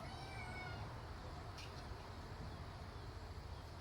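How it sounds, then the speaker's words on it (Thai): A cat waiting for a leftover mackerel head in a home kitchen gives one drawn-out meow at the start, then only a low, steady background hum remains. "แมวเรียว แมวร้องละ"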